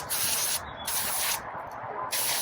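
Brake parts cleaner hisses from an aerosol can onto Lionel E-unit parts outdoors, three sharp close bursts separated by brief pauses.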